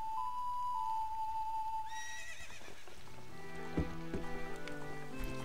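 A horse whinnies in Zelda: Ocarina of Time, a clear neigh over game music, followed by a few rhythmic hoof-like thuds near the end.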